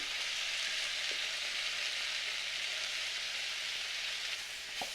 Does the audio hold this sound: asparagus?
yes